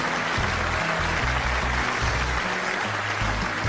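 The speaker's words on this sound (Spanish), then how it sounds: "¿Cuántos aplauden a ese Dios?" A church congregation claps steadily, a dense wash of applause over a bass-heavy music accompaniment that keeps playing throughout the short stretch.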